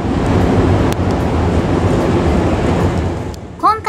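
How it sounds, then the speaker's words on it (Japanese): A Hankyu 5300 series train, set 5311, pulls into a station on the Hankyu Kyoto Line with a steady, close rolling rumble. A brief voice cuts in at the very end. "さあいよいよ電車が入線してきました。"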